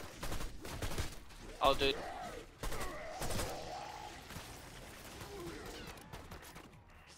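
Gunfire in a video game, fired in slow, spaced shots, with a few sharp bursts standing out over a busy game mix while someone talks over it.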